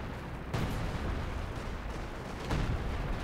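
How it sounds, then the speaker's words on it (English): A major artillery barrage in the Company of Heroes 2 video game, heard as a continuous, dense roar of rumbling shell impacts with two heavier blasts standing out, loud and close with no talk over it. "So it is major artillery, is that right?"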